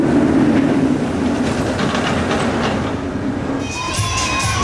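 Roller coaster trains running on the Kraken and Manta tracks at SeaWorld Orlando on a hot day, giving a steady rumbling rail roar that rises to a sustained high whine toward the end.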